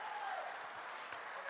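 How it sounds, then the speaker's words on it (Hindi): A rally crowd in the Saharsa stadium applauds to welcome Bihar Chief Minister Nitish Kumar: a brief, dense wash of steady clapping at moderate level with no break. "सहरसा के लोगों से आग्रह करूंगा कि जोरदार ताली बजाकर नीतीश"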